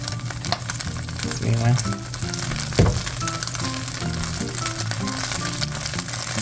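Sesame oil sizzles in a pan while broccoli beef is cooked, a loud, continuous crackling fry with stirring and one sharp clatter partway through.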